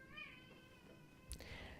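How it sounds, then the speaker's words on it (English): A house cat meows faintly in the background, one or two short mews heard behind a quiet indoor room, with a brief click partway through. "if you hear mewing in the background"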